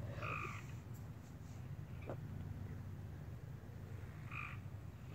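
Frogs near a backyard pool croak twice, once at the start and once near the end, short distinct calls separated by a quiet stretch of faint ambient noise.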